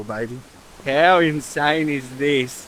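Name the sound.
waterfall at a river campground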